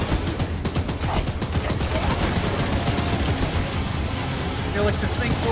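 A turret gun fires in Choo Choo Charles, rattling out a continuous rapid stream of loud shots that lasts the whole stretch without pause, with a voice shouting over the fire.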